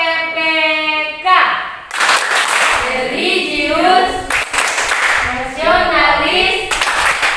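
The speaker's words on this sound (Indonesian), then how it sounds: "Semua harus tepuk tangan dulu. Tepuk PPK." A standing classroom group, children led by a teacher, performs the rhythmic PPK clapping chant, with sharp claps in patterned bursts between loud unison chanted words, close and energetic.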